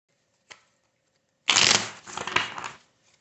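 After a single faint tap, a deck of Wild Unknown Tarot cards is shuffled up close, giving a loud riffling burst followed by a second, softer flurry of cards.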